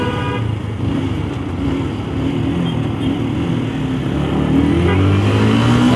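A motorcycle fitted with a racing exhaust revs loudly and continuously up close, its throaty exhaust rising and falling in pitch without any speech.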